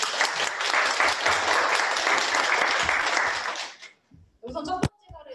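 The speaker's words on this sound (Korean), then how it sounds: "박수 한번 부탁드릴게요" An audience at a Justice Party youth housing meeting bursts into loud, dense applause lasting several seconds, then fades as a few scattered claps and a voice follow.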